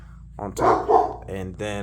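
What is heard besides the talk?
Anatolian shepherd dog barking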